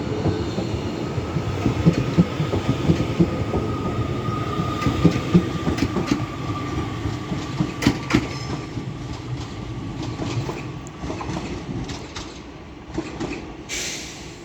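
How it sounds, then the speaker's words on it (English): A Hull Trains passenger service for London King's Cross pulls out of Doncaster station, a loud continuous rumble of wheels on rail with clicking joints and brief squeals, close by and without talk. "And also departing is the 1125 Hull train service to London"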